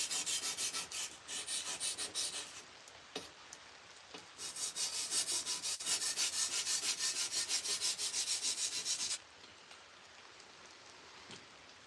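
Sword blade being sharpened, quiet repeated scraping strokes of a fast rhythmic rasping, with pauses between bursts, close but soft.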